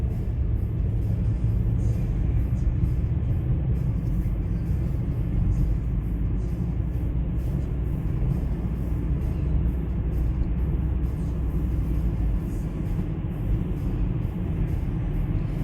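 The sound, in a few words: car driving on road at 50 km/h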